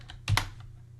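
A brief burst of computer keyboard typing, a couple of sharp close keystrokes with one heavier thump, with no talking.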